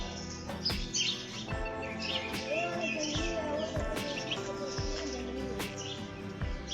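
A bulbul perched on a thin top branch of a tree in a residential street gives short chirps and calls, faint and scattered over a steady background hum.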